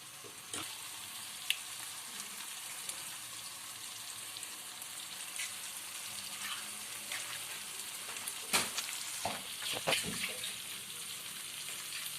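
Eggs broken into a pan fry gently for a Pakistani spicy omelette, a soft continuous sizzle with faint crackles and a few sharper clinks near the end, quiet and steady.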